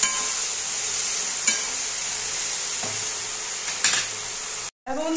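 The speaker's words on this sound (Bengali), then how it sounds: "এবার ভালো করে নেড়ে নেব" Taro greens (kochu shaak) with salt and turmeric sizzle steadily in a pan, with occasional scrapes and knocks of a spoon as they are stirred, up close, before a brief cut.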